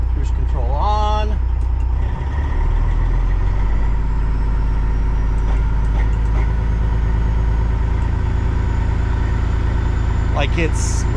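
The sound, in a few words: Kenworth cabover truck engine running smoothly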